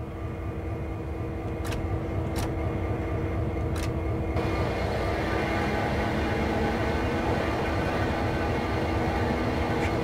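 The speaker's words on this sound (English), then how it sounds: "Using the rotation control, turn the table and locomotive to the indicated track." A heavy locomotive turning on a rotating turntable in Train Sim World's CSX Heavy Haul, giving a steady, continuous rumble and drone with a few brief high metallic squeals early on, no talk.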